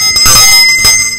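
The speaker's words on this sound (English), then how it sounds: "It all began with a bell that opened a historic event for the club" Bells from the collection of a Rotary club in Kharkiv, Ukraine ring out loudly and alone, with several bright metallic strikes and long ringing tones over a little more than a second.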